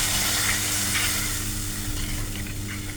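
Water hits potatoes cooking with spices in a pan for prawn kalia, raising a loud, continuous sizzle with some stirring scrapes throughout, and no speech.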